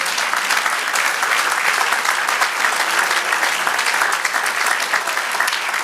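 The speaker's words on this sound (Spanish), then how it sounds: "Dele aplauso al Señor." A church congregation claps loudly and densely during a sermon, the applause holding steady and close throughout with no voices over it.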